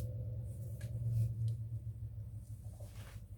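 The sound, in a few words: neighbor's loud truck outside the open window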